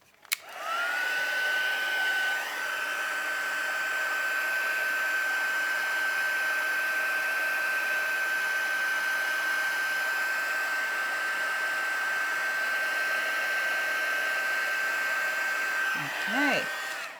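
Heat gun blowing steadily on white embossing powder to melt it, a continuous airy whoosh with a constant whine lasting the whole time, close and even, with a brief shuffle as it cuts off at the end.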